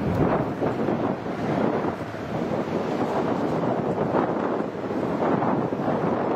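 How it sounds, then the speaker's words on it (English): Steady, loud wind buffeting a microphone, a continuous low rumbling roar with gusty swells throughout. "It is very windy."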